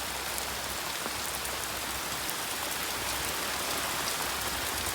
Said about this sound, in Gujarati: ત્યાં વરસાદ થઈ ગયો ચાલુ